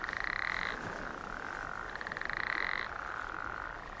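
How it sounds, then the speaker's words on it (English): Toads croak in continuous rapid trills from water-filled concrete pits, two overlapping pulsing calls with a brief lull between bursts, close and clear. "the huge concrete pits where the atom bombs had been loaded onto the B-29s are, quote, water-filled and resound with the croaking of toads"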